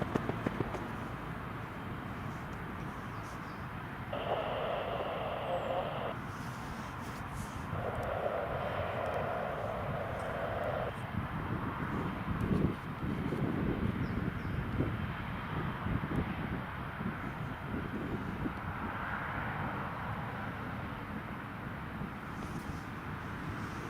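An aircraft lands on runway 07 at Newcastle International Airport, its engines a steady, broad roar heard from outdoors, with brief tonal whines and a low rumble swelling near the middle, and no voices.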